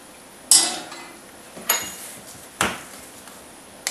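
A small saucepan set down and handled in a home kitchen, giving four sharp metallic knocks spaced about a second apart, close and fairly quiet, with no talking.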